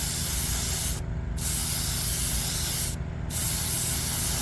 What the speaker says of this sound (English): Like I said, this is poison green, so it's going to be a light green.